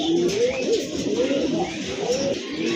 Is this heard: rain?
no